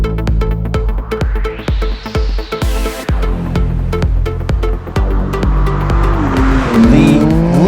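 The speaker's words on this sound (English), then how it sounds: "This is a 2026 BMW M2 CS." A 2026 BMW M2 CS sports car is driven hard, its engine revving up and down through gear changes while the tires squeal loudly in long skids, heard up close with no talking.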